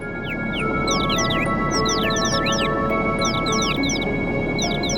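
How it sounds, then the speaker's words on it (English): Chirping birds in the Final Fantasy VII video game: rapid, repeated high chirps and tweets overlapping steadily throughout, over a constant background ambience. "What is that sound? A bunch of chirping birds."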